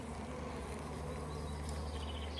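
Honeybees bringing nectar into a busy hive, a steady, dense buzzing hum of many bees close by, continuous and even throughout with no talking.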